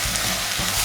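Vegetables with broccoli and salt being stir-fried in a pan, a brief burst of close, steady sizzling with faint stirring thumps.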